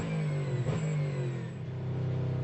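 A Ford Mustang GT3 race car engine roars at Le Mans, a loud, close, sustained drone with a strong low tone that dips briefly mid-clip before continuing, heard alone without talk.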